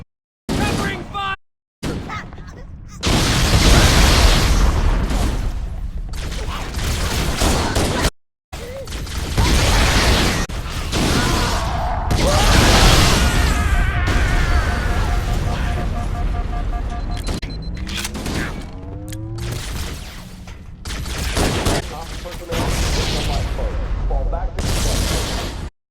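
Gunfire and explosions in the video game Halo, with bursts of shooting and booms running almost continuously beneath voices, broken by a few short silent gaps.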